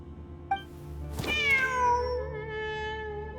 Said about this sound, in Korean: 진짜로 고양이가 있잖아.